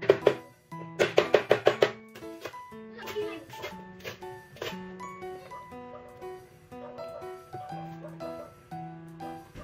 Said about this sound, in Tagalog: Itong tanglad pala para to sa chicken barbecue, nilinisan ko lang tapos pupukpukin ko yan at hihiwain.